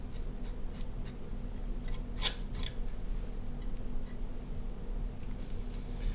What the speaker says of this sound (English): So just scrape the charred skin, it comes off really easy.